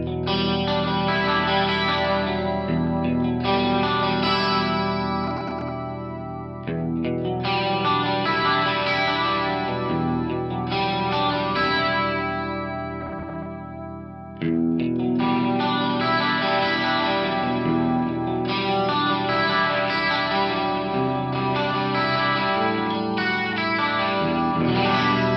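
Lush 16-voice chorus from a Fractal VP4 effects unit thickening a sustained instrument line, shimmering and swirling continuously for about twenty-five seconds at moderate level, with a brief dip in the middle and no talking.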